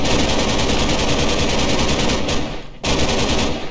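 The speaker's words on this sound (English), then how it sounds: "Also, all the weapons have loud sound." Rapid automatic gunfire from a weapon in a Minecraft gun mod (version 1.19.4), a loud continuous burst with a brief pause near the end before firing resumes.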